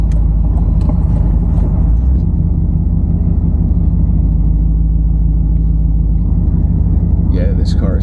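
Loud, steady engine rumble and road drone from a long-stored barn-find Buick being driven, heard from inside the car with a continuous low roar throughout and a brief faint sound near the end.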